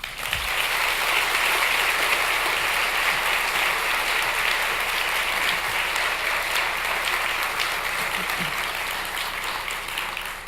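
Sustained audience applause fills a convocation ceremony at Pickard Hall, a dense, loud wash of clapping from a large crowd that holds steady and then tapers slightly toward the end.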